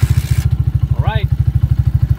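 Honda TMX155 motorcycle engine idling close by with a steady, fast, throbbing pulse throughout, and a brief voice-like chirp partway through.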